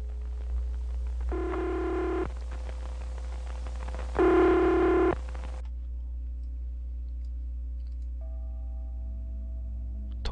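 A phone call being dialed and ringing out, with two long, steady ringback tones separated by a pause over a constant low hum, followed by quieter faint tones near the end.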